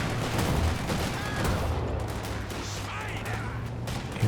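Bursts of machine gun fire in a Company of Heroes 2 battle rattle continuously under a dense layer of combat noise, with a voice talking over them throughout.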